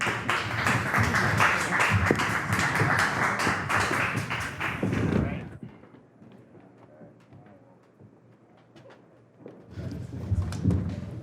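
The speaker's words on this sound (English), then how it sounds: "So please give me a warm round of applause for them." Audience applause for panelists at a trading masterclass event, a dense burst of clapping for about five seconds that cuts off into near silence, then a second round of clapping rises near the end.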